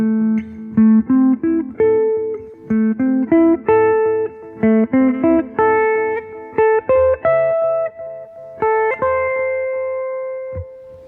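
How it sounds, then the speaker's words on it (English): Minor triad arpeggios on guitar: quick single notes picked in steady rising and falling patterns, each ringing briefly into the next, ending on a held tone, played alone without talking. "So our arpeggios now sound like this."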